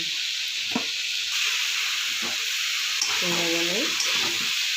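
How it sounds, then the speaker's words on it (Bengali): Vegetables with turmeric and salt frying in a pan give off a steady, bright sizzling hiss, with faint stirring noises and a brief murmur of voice partway through. "ভালো করে একটু ভেজে নেবো"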